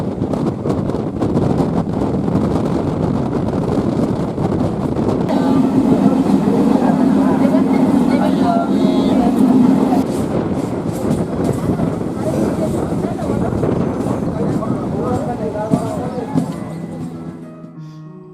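A train runs towards Canning railway station on the way to the Sundarbans, its steady rumble and rattling carriages filling the whole stretch with wind buffeting the microphone, and voices chatter faintly in the background.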